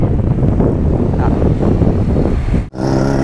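Wind blows along a canal in Bangkok, Thailand, as a loud, steady roar buffeting the microphone, then cuts off abruptly near the end.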